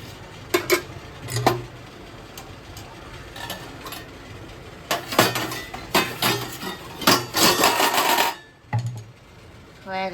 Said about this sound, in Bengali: এবার আমি ঢাকনাটা খুলে দিচ্ছি আর একবার